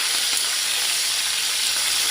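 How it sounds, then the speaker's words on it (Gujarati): Mustard seeds crackle in hot oil, producing a continuous, close, loud sizzle full of fine spitting pops, with no voices. "તો અહીંયા જોઈ શકો છો કે આપણી રાઈ તતડી ગઈ છે."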